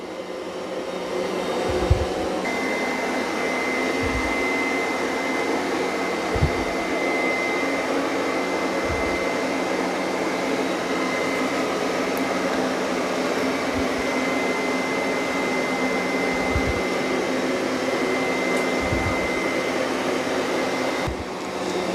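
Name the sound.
Roborock Qrevo S robot vacuum cleaning carpet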